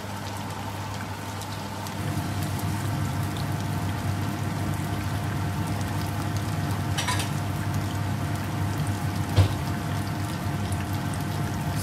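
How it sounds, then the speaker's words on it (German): Running water from a tap while hands are washed in a home kitchen, a steady close hiss with a couple of brief clatters and splashes. "dann waschen wir mal die Hände"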